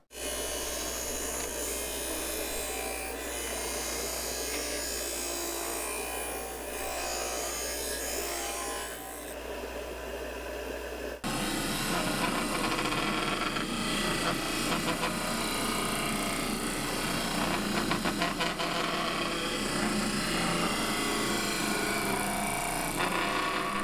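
A Harbor Freight 12-inch disc sander runs continuously with a steady whine, then the pitch drops and the grinding roughens as it bears down on material, loud and close.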